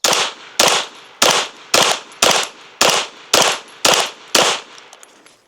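A pistol firing frangible rounds, nine or ten sharp, loud shots close by at a steady pace about half a second apart, each one ringing out briefly before the next, with no talk.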